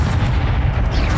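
A Bombarda spell blast in Hogwarts Legacy goes off as a loud, deep booming explosion, a single heavy burst with rumbling low end and no talk over it.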